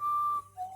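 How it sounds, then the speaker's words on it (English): A single close, loud whistled note holds steady, then drops and briefly resumes at a lower pitch, with no talking. "He loves a good whistle."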